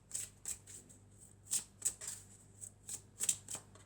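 A deck of oracle cards being shuffled during a reading, crisp riffling bursts repeating at a quick irregular rhythm, close and fairly quiet with no talking.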